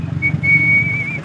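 A person whistles one clear, steady high note, held for most of a second over a low background hum.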